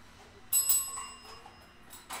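A small bell rings in a few quick, bright strikes that trail off, with a final short ring near the end, fairly close and moderately loud, in a studio.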